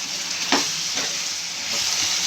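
Andhra-style chicken pepper fry sizzles in a pan while being stirred, a steady close hiss and crackle with a couple of brief scraping strokes, no talking.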